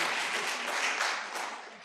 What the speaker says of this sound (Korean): 박수로 한번 모시겠습니다